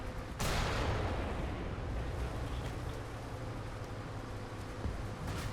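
In War Thunder, .50 cal machine gun fire opens with a sudden loud burst, then becomes a dense, continuous rumbling roar of battle that stays fairly steady to the end, with no talk.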